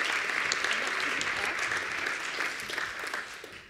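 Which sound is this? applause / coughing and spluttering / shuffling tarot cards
applause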